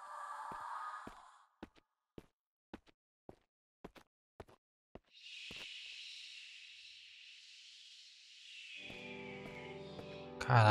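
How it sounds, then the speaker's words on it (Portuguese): Breathing sounds from the video game Nephise Begins: soft, airy breaths come in and out, broken by a run of sharp regular clicks, then a long steady hiss before a louder tonal rumble at the end. "Quem é que tá respirando aqui?"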